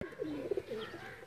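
Pigeons from India, kept on a rooftop, give a soft rolling coo at close range, brief and faint over a quiet background.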